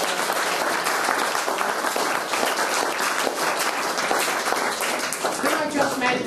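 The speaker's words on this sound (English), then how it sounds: "so I think a little round of applause." Sustained clapping from a roomful of people, even and continuous, with some voices mixed in beneath the applause.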